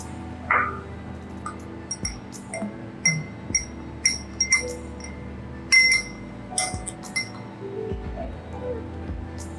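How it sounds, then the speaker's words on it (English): Spoon stirring a blend of oils in a glass, with scattered light clinks against the rim over a quiet room background, soft and intermittent. "Okay, let me stir it."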